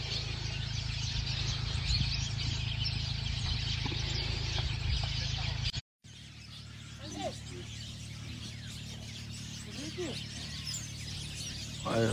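Many small birds chirp and sing at once in a dense chorus on a farm, with a few sharper individual calls standing out later.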